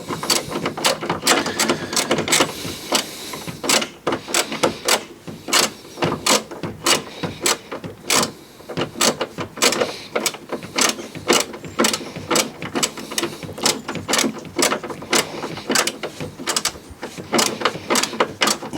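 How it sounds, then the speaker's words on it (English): Close ratchet clicking in quick irregular bursts as an earth strap bolt is tightened on a Fiat 500, a corroded main ground strap being replaced, with brief pauses between strokes. "Let's just get the bolt done up."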